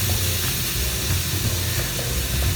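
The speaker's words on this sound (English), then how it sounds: "See, it's hot by the nice amount of sizzle in it." A NY strip steak sizzles in a hot, oiled, pre-seasoned cast iron skillet, producing a constant, close, broadband hiss with no talking.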